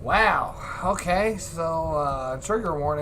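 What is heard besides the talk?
No distinct noise like a dog, phone or traffic.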